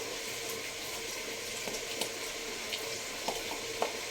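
Vegetables for a vegetable pulao cook in oil in a pan, giving a steady, moderately loud broadband sizzle with a few soft clicks of stirring and no talking.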